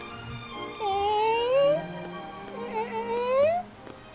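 A pet cat meows in a couple of drawn-out, rising cries, close and clear against a quiet room.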